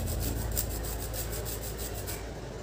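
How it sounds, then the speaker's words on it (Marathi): Whole nutmeg is grated over a sweet milk mixture, giving a continuous, close scraping rasp with faint rhythmic strokes, steady and fairly quiet throughout with no talk. "थोडंसं आपण ह्याच्यामध्ये जायफळ टाकणार आहोत किसून"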